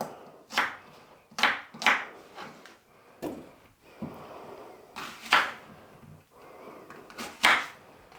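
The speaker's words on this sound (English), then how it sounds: "Right, that's the apple roughly chopped in there." An apple, peel left on, roughly chopped with a knife on a board in a home kitchen; a sequence of sharp, close knocks in an uneven rhythm, with quieter cutting between them and no talk.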